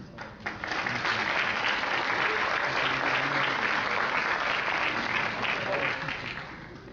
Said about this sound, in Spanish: Recibamos un fuerte aplauso